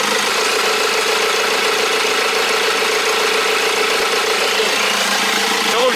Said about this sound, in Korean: 엔진이 왜 이렇게 진동이 많아?